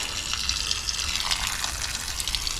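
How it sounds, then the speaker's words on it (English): Water drains from a camper travel trailer's tank drain valve onto a driveway as a constant, moderately loud, hissing gush that does not let up. "whatever's left in the tank is just gonna flush out here onto the driveway"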